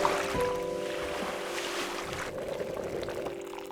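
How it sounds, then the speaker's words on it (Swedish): A kayak is paddled on open sea, with soft water swishes and splashes over wind and gentle surf, faint and continuous with no talking. "När jag sitter i kajaken och paddlar på vattnet"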